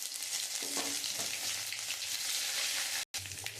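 Radhuni seeds and ginger paste sizzle steadily in hot oil with dry chillies and bay leaves in a pan for a vegetarian curry, a close continuous frying hiss with light stirring and a brief dropout near the end.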